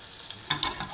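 Butter melting and sizzling in a pan, with a soft close crackle and a couple of brief louder bursts of sizzle over a quiet hiss.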